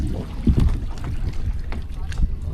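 A boat out on the Kasarsai Dam reservoir, with steady low water rumble and wind buffeting the microphone, plus a few soft knocks throughout.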